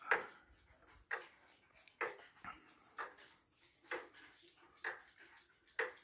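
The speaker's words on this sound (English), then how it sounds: "I don't turn it on at night because it's ticking too loud" Frisian regulator clock ticking, faint but clear evenly spaced ticks about once per second in a quiet room.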